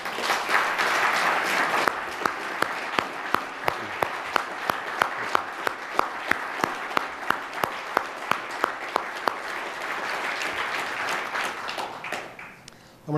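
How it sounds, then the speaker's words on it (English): A law enforcement conference audience applauds Deputy U.S. Marshals, a broad crowd clapping that settles into a strong, regular rhythmic clap for several seconds before loosening and fading out at the end. "So please join me in a round of applause for the Deputy U.S. Marshals and for other current and former members of law enforcement."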